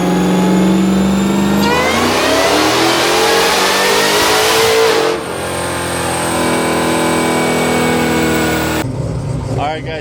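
A car making about 1261 wheel horsepower revs hard on a chassis dyno, its engine roaring and climbing loudly in pitch, then dropping off and settling before a sudden cut near the end, with voices mixed in.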